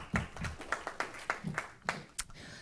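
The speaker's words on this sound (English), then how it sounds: "round of applause for all of you." A short burst of hand clapping, a handful of distinct claps in an uneven rhythm, fairly close, like a small group applauding.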